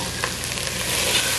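Sliced ginger stirred in a hot pan, a steady close sizzle with soft scraping from the stirring and a couple of brief clinks, no voices.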